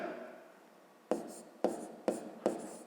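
A pen scratches on paper during a fifth-grade math lesson, four short close strokes spaced about half a second apart in a quiet room.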